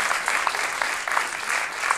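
Audience applause for improv actors at a Paris improv festival, a dense steady clapping from a crowd that fills the whole moment, loud and continuous without letup.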